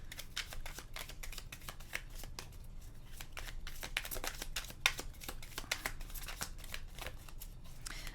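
A deck of tarot cards being shuffled close by, with quiet, rapid, irregular riffling and flicking that runs on without a break and stays soft.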